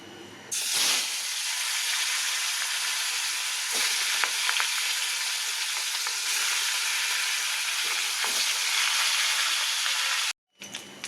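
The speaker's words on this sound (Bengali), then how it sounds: "এবার মাছগুলো আমি কড়ার মধ্যে ছেড়ে দেবো" Fish sizzles loudly in hot oil in a kadai, a dense crackling hiss that starts abruptly and holds steady, with faint clinks, then cuts off near the end.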